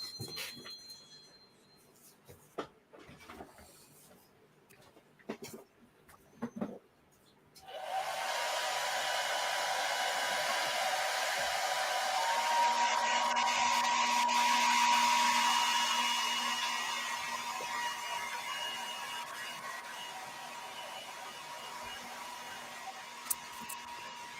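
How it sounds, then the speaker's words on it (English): A blow dryer runs steadily for about sixteen seconds to dry a shiny patch of sealed paint during a painting job, coming on loud and close after a few quiet seconds of small knocks and handling sounds. "If you got to hit it with the blow dryer once"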